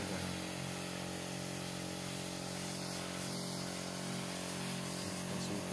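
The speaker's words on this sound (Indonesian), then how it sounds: "Kita semprot lagi tanaman yang lain." A motorized sprayer sprays durian plants in an orchard, producing a steady, loud engine drone with hissing spray that runs unbroken throughout, with no voices over it.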